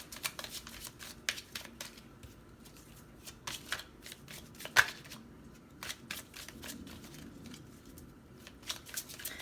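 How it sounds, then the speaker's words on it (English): Tarot cards are shuffled from a deck in a quiet room: a steady run of soft, papery riffling and flicking with one sharper snap near the middle, close and fairly faint. "let's get a few more cards from this deck"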